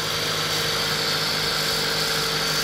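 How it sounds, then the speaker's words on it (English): A Nissan Micra K11 idles steadily with a homemade air intake fitted, giving a constant, even engine hum with intake whoosh and no changes in revs, close up and with no voices. "so any noise is literally just going to be the air intake"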